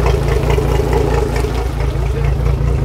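Twin Mercury 300 Verado outboard engines, recovered after the boat sank, idle loudly nearby with a deep, steady, pulsing throb and a faint mechanical clatter throughout, with no talk.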